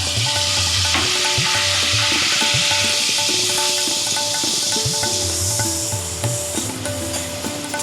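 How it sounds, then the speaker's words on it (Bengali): Onion paste from two medium onions frying in a pan, stirred repeatedly, giving a steady loud hiss with rhythmic scraping strokes and occasional soft knocks of the spoon, no talking. "এটা আমি বারবার এরকম করে নেড়ে পেঁয়াজটাকে ভালো করে ভেজে নেব।"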